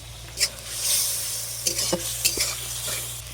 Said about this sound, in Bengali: এখন মশলাটাকে নেড়ে চেড়ে খুব ভালোভাবে কষিয়ে নেব